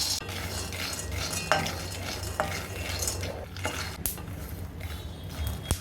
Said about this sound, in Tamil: நிலக்கடலை நல்லா வறுபட்டுருச்சுங்க